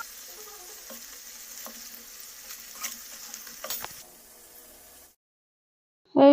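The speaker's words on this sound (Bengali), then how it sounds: "আর কিছু পিঠে আমি তেলে ভাজবো" Pitha rice cakes frying in oil give a soft, continuous sizzle with faint crackles and pops, which stops abruptly into silence before a brief loud burst at the very end.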